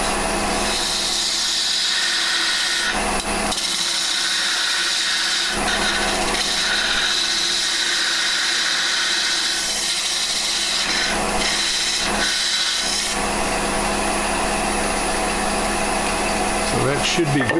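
A parting tool cuts into a spinning wooden lamp base on a lathe, giving a steady, close, loud scraping hiss with brief dips and a rough buzzing rattle near the end.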